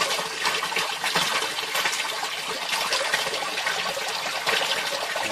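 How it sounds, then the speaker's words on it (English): An aquaponics siphon drains its grow bed with a steady, close rush and gurgle of water that holds at an even level throughout, with no voices. "the siphon finishes and the water flow shuts off"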